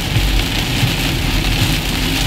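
Heavy rain pours down steadily on a street in Kolkata, a loud, dense, unbroken hiss with no voices.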